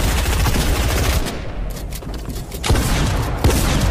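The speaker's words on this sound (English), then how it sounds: "Start spamming RPGs at anyone looking up at you." RPG rocket launcher fire in Fortnite, a dense run of loud blasts and explosions over a steady bed of game noise, with sharper booms near the end.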